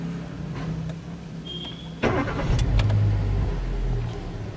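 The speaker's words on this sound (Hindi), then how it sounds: "ये केबिन नॉइज है, इंजन स्टार्ट हो गया है" A Hyundai Grand i10 engine cranks and catches, then settles into a steady idle rumble heard from inside the cabin, with a faint whine before it starts.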